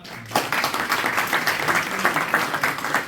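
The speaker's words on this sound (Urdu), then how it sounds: "ان کے لیے ایک بار پھر تالیاں" Audience applause at a community event in Bradford, a continuous crowd of hands clapping steadily after a brief quiet start.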